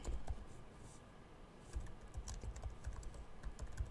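Keys clatter on a computer keyboard as a notebook name is typed, a steady run of close, quick clicks with small pauses.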